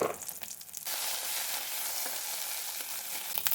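Dried red chillies with nigella seeds fry in hot oil in a pan, a steady close sizzle that swells up loudly after a short quieter start and holds without talk.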